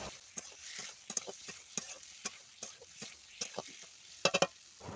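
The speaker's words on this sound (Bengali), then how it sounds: "তো এবার আলুটাকে দেখো আমি মশলার সাথে একটুকুনি নাড়াচাড়া করে নেব।" Potatoes being stirred into fried spice paste in a pan for a singhi fish curry: a run of scraping, clicking spoon strokes over a soft sizzle, irregular and fairly close.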